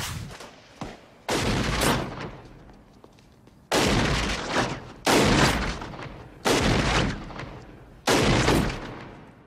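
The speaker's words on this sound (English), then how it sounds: "James Caan gets a big old gun that he's going to use against some aliens, and he tries out at target practice" Heavy guns fire in loud bursts during an alien-themed 1980s movie's target practice scene, with about five long booming volleys that each decay slowly, separated by short gaps.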